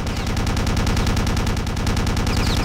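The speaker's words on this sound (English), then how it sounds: "Maybe you're supposed to shoot something with the MG42." An MG42 machine gun fires continuously in Return to Castle Wolfenstein, a dense, loud, unbroken stream of fast rounds with a heavy low-end roar, close and steady throughout with no talking.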